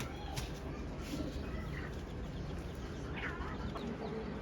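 A hen clucks repeatedly among pigeons and other farm birds in a noisy yard, short clucks and squawks over a constant loud background hum, with a few wing flaps; no talking.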